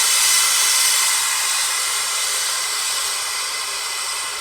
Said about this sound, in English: So that really demonstrates that it holds that steam back.